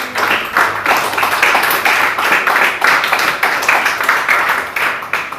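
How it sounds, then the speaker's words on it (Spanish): Church congregation applauding together in a sustained, dense wash of hand claps with a steady pulsing rhythm, fairly loud and close, no talk over it. "Quiero un aplauso al Señor."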